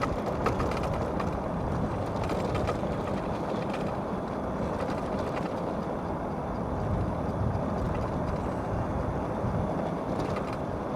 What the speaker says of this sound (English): they're gonna make that fender just rattle like crazy